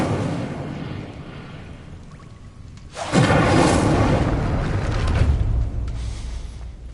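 An Incendio fire spell bursts in Hogwarts Legacy, a sudden loud whooshing blast that erupts after a quieter ambient stretch and roars on for several seconds before easing slightly.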